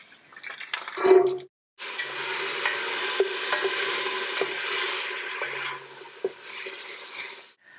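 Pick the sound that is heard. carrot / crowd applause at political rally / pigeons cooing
carrot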